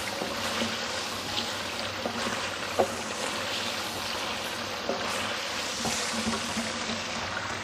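Chicken frying in a karahi gives a steady, close hiss of sizzling oil, with light clicks and taps scattered through it.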